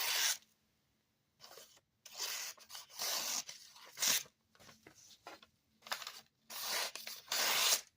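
Pocket knife, a Joker N105B clip point, slicing through a sheet of old magazine paper: several short, crisp tearing swipes in bursts separated by silent pauses, close and moderately quiet.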